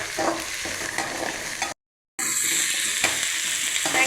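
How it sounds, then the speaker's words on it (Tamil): Onion and curry leaves sizzle and crackle in hot oil for anchovy karuvadu thokku, a close, steady frying hiss that cuts out briefly in the middle before resuming; no talking. "இது கூடவே கருவேப்பிலை இது எல்லாமே கொஞ்சம் நல்லா வதங்கணும்"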